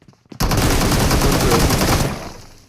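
Dense, loud automatic gunfire from the battle royale game BGMI starts abruptly after a brief quiet moment, sustains for nearly two seconds in a rapid continuous stream, then fades out.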